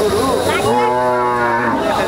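A Friesian dairy cow moos once, long and loud, close by at a busy cattle market, with crowd noise behind it.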